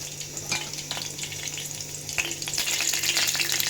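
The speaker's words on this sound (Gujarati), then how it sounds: "અત્યારે જો ઘી ગરમ થાય જ છે" Hot ghee sizzles and crackles steadily in a pan, with a few sharp clicks and spatters rising toward the end.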